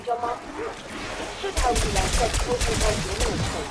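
Ray Gun Mark II W submachine gun firing in the video game Black Ops 6, a rapid run of energy-weapon shots that begins partway through, loud and dense, layered with game sounds.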